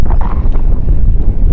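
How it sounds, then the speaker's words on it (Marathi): Strong wind blows over a fishing boat at sea, producing loud, constant low buffeting and rumbling with no voices. "वारा पण आता वाढला आहे, वाऱ्याचा वेग."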